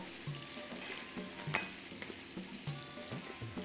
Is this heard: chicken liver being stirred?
yes